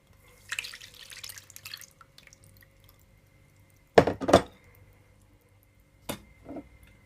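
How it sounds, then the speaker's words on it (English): Liquid is poured into a hot pot on the stove, giving a short splashing burst near the middle followed by a few brief drips and trickles, close and fairly quiet, with no one talking. "So now I'm gonna add all my liquid to the pot."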